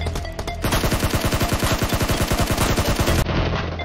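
Rapid automatic gunfire in PUBG rattles off in a long, steady burst of sharp, evenly spaced shots, loud and close, running for about three seconds before cutting off into a softer background.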